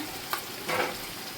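Vegetables sautéing in a pan with garam masala and Kashmiri chili powder, a soft steady sizzle broken by two short stirring scrapes, close by and fairly quiet.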